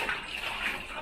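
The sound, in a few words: river flowing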